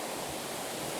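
A small waterfall on a creek beside a mill wheel and covered bridge pours in a steady, even rush, the hiss continuous and fairly close with no voices.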